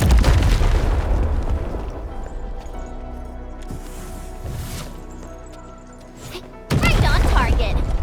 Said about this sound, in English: Right on target. I give that explosion a 10 out of 10.